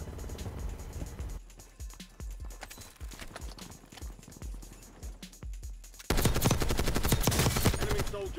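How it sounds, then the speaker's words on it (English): Gunfire in the Call of Duty Black Ops 6 Warzone video game rings out as a run of sharp, rapid shots and thuds, then a dense, louder burst of continuous firing near the end. "Two people shot at me."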